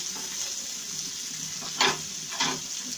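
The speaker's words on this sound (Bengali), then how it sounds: "সেই জন্য ফ্রাইপ্যানে আমি তেল দিয়ে পর্যাপ্ত পরিমাণ তেল দিয়ে পেঁয়াজ দিয়ে দিয়েছি।" Onions frying in oil in a frying pan for beef kabab give a steady close sizzle, with two sharper bursts near the end as the pan is stirred; no one speaks.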